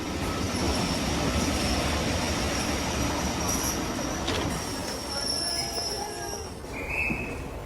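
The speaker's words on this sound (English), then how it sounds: "At last, the train came into the station." A train comes into a station, rumbling steadily and loudly for several seconds while its wheels squeal in long high-pitched whines on the rails.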